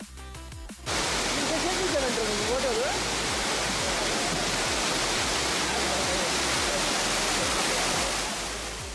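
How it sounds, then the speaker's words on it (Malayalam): Abbey Falls in Madikeri, Coorg, Karnataka, gives a loud, steady, close roar of falling water that starts abruptly and holds unbroken for the whole stretch, with a faint voice barely audible beneath it. "ഇതാണ് നമ്മളുടെ അബ്ബി ഫാൾസ്."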